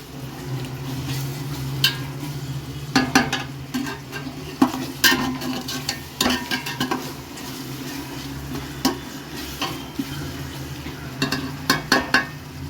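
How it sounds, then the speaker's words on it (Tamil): Tomatoes sautéing with salt in a pan for chicken biryani, a soft sizzle under frequent scraping, tapping spoon strokes that come in uneven bursts, close and fairly quiet. "தக்காளி போட்டோடனே நல்லா வதங்கிடுச்சு. உப்பு ஆட் பண்ணதுக்கு உடனே வேகமாகவே வதங்கிடுச்சு தக்காளி"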